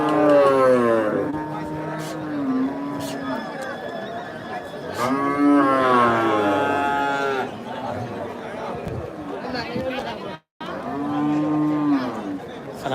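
Cattle, including a bull calf and a local cow, moo loudly in long, drawn-out calls at a busy rural cattle market, several lows one after another over crowd chatter and talking people.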